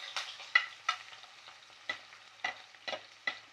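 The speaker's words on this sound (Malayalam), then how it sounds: "ഇഞ്ചിയും ചേർത്ത് വഴറ്റി കൊടുക്കാം" Garlic and ginger sautéing in a pan for Kerala prawn pickle, a soft steady sizzle broken by repeated scraping stirs at an irregular rhythm, close and fairly quiet with no voices.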